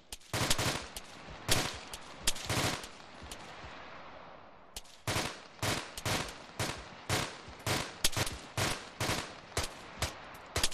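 Airsoft guns fire from a base of fire during an outdoor skirmish game, sharp snapping shots coming in quick bursts and single pops, near and crisp, with nobody talking.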